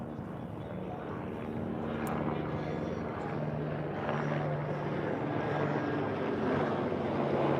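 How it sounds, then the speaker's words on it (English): A helicopter drones with a steady low rotor hum, gradually growing louder as it flies nearby, heard from a cruise ship departing Brooklyn, New York City. "There's another helicopter."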